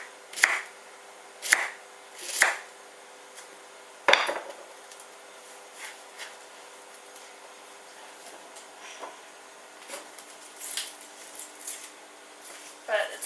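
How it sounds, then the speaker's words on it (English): A kitchen knife chops celery on a board for a rice salad, with a few sharp, close chops in the first seconds followed by lighter, scattered knife taps. "So just cut all the celery up."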